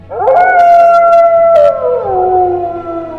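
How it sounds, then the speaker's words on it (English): Black wolf on a timbered ridge by a swamp giving one long, loud, quavering howl that holds steady and then slides lower, close and alone. "blood-thinning howl"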